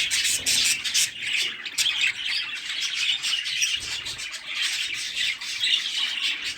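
A rainbow budgerigar with a crossed beak gives repeated shrill squawks and chirps, close and fairly loud, in bursts across the whole stretch with no talking.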